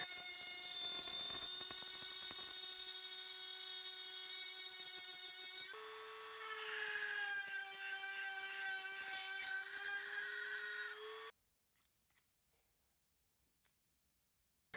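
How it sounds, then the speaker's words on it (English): A handheld Dremel rotary tool with a cutting bit sands PVC in a steady, loud high-pitched whine that shifts pitch partway through, then cuts off abruptly, leaving near silence with faint clicks. "If you have access to a Dremel, use a cutting bit to sand out the black shaded bolt area on the template."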